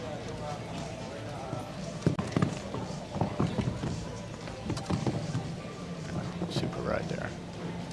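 Horse hooves thud on the arena footing during a show jumping round at the FEI 5* American Gold Cup, with irregular close impacts under steady commentary and a murmuring crowd.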